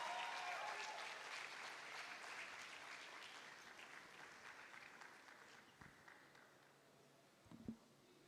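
Audience applause at a LinkedIn Local Nigeria 2025 gathering, faint and distant, a sustained crowd clapping that gradually fades over several seconds and ends with a few scattered knocks.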